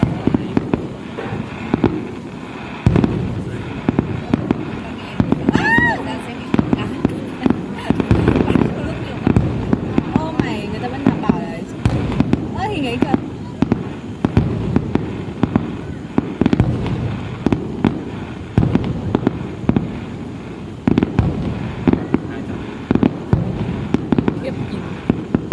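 Fireworks at Ho Van Quan burst again and again in loud, close sharp cracks and booms, a dense irregular barrage that runs throughout while people talk and react excitedly over it.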